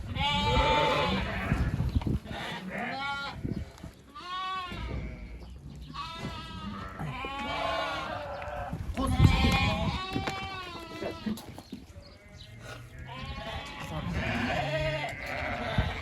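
Sheep and rams bleat loudly and repeatedly in a pen in Uzbekistan while shepherds vaccinate them. The big rams are each given a 10 ml injection, and people talk among the overlapping calls.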